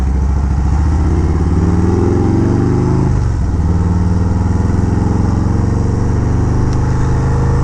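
A 2024 Harley-Davidson Road Glide motorcycle being ridden, its loud, steady engine rumble rising under throttle then dropping briefly as it shifts before settling into a continuous cruising drone.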